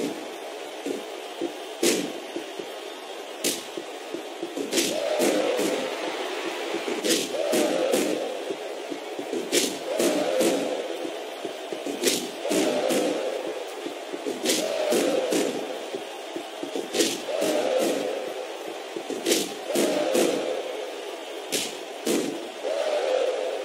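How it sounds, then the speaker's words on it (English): In a WWE wrestling video game, a sellout arena crowd cheers and roars in waves. Sharp impact thuds and slams punctuate the steady crowd noise. "Sellout crowd can't get enough of these guys."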